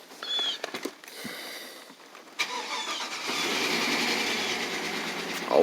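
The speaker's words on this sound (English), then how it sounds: "this here is the first crank" A car engine cranking on its first start in over two months: a few scattered clicks and clunks, a sharp catch, then a steady idle that settles in and holds, ending in a brief louder burst.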